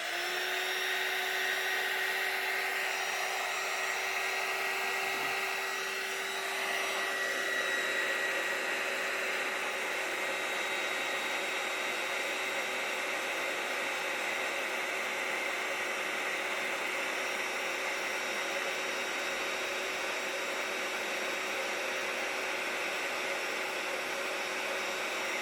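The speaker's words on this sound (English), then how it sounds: "I'm just going to heat seal that" A heat tool runs steadily for the whole stretch, heat-setting embossing powder on a handmade card: a loud, close, continuous blowing whoosh with a constant hum, no talking over it.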